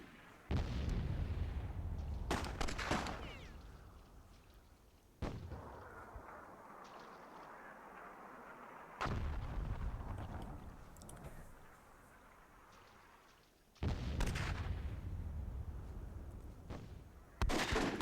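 Rocket-propelled grenades and hand grenades explode in a WWII-themed match of the game Myth II, several loud booming blasts with long rumbling decays spaced seconds apart, quieter background between them.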